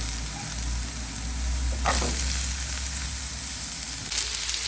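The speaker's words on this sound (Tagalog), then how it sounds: "Brown na ang ato ang mga sibuyas ug ahos." Onions and garlic browning in a pan for squash, chayote and eggplant in coconut milk give a steady, close sizzle throughout, with a brief scrape or stir of the pan near the middle and another near the end.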